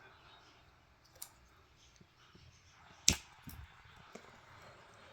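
A single sharp snip of scissors cutting knitting yarn on a two-needle booty, close and crisp amid soft handling noises and a couple of faint clicks.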